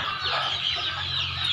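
Free-range country hens cluck steadily and close by in a brief, continuous burst of farmyard fowl chatter, with no voices.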